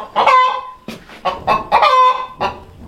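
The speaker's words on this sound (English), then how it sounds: "Sounds like we have a chicken trying to lay an egg somewhere." A hen clucking in a run of loud, close, repeated bursts, with brief pauses between the squawky calls while she tries to lay an egg.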